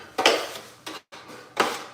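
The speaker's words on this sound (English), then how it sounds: "knock that ceiling drywall right out" Ceiling drywall in a condo is knocked out in three loud, close, crumbling impacts, each a short burst of cracking board and falling debris separated by brief pauses.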